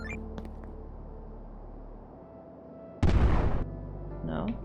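A bomb goes off in the video game Eastward, a single sudden loud blast after quiet background game ambience, followed by a fainter chiming tone.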